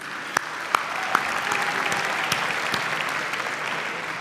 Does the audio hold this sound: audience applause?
yes